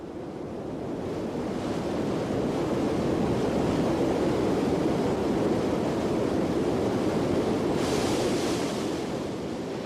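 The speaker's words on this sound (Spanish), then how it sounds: "El agua se precipita a través de 3 cascadas, una a continuación de la otra, y se estrella 380 metros más abajo." Water from the Krimml Waterfalls plunges through three successive cascades in the Alps, dropping 380 metres; a dense, steady roar of rushing, crashing water fills the whole stretch, loud and unbroken.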